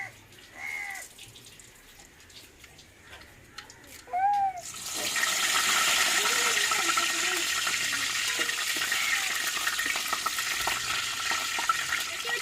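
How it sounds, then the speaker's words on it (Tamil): Mustard seeds, urad dal and curry leaves dropped into hot oil, a loud continuous sizzle and crackle that bursts in partway through and holds steady, preceded by quieter kitchen sounds and brief voices. "எண்ணெய் சூடாயிருச்சுங்க, கடுகு உளுந்தும் கருவேப்பிலையும் போட்டுக்கிறோம்."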